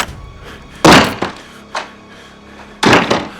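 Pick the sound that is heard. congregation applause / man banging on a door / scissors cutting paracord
man banging on a door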